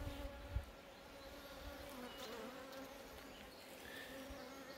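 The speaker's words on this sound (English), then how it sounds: "Definitely a few more bees on there, which is good." Honeybees hum in a steady, soft, close buzz inside an open hive, a dense swarm sound with a faint thump near the start.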